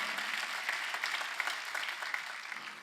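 Congregation applauding at a Sunday charismatic healing service of a Korean church, a steady wash of many hands clapping at moderate distance, sustained without break and fading slightly toward the end.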